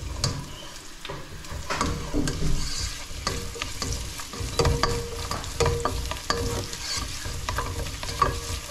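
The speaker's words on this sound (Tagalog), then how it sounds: "gisa tayo ng maraming bawang" Garlic and ginger sauté in a hot pan with steady sizzling, punctuated by repeated scraping and clinking of a spatula stirring, close and continuous without talk.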